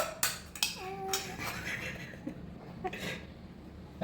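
A spoon scrapes and clinks against a dish while food is scooped, with a few sharp metallic taps and a faint ringing tone, close and fairly quiet, alongside soft voices in the room.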